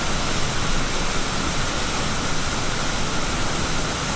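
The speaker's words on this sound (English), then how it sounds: "the water is literally flowing underneath the ice" Water rushes beneath ice at Bald River Falls in Tellico, Tennessee, a steady, dense wash of noise that stays constant and close throughout, with no voices.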